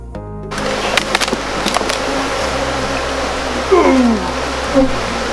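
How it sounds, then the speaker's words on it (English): Welsh black honey bees buzz around an open hive, a dense droning hum with individual bees whining past close by, over a steady mechanical whir. "you can see these Welsh black bees are quite aggressive today"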